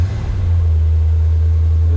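Restored 1965 Chevrolet Corvette convertible with a 4-speed, its engine catching and settling into a loud, steady low rumbling idle close by, no voices.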